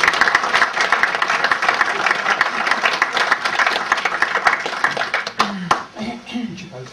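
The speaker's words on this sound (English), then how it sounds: "give a round of applause" Wedding guests applaud, dense clapping that carries for several seconds and then thins out, with a few voices heard as it fades.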